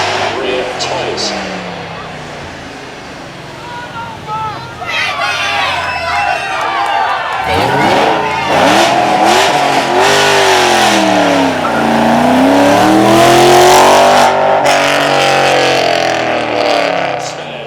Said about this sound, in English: And finally then, we have the Thunder of our Ford Mustang.